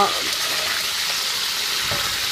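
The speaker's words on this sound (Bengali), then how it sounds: "আমি রোস্টের জন্য মুরগিগুলো ভেজে নিব" Chicken pieces coated in yogurt and chili powder fry in hot oil with a steady, dense sizzle and crackle throughout, loud and close, with a faint stirring bump near the end.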